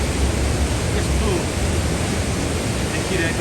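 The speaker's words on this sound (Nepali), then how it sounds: "थापाथलीको पुल मुनिबाट मैले तपाईलाई यो पानी देखाइरहेको छु, बाढी देखाइरहेको छु" Floodwater from the Bagmati river rushing beneath the Thapathali bridge in Kathmandu after heavy rain, a loud, constant broadband roar with no breaks.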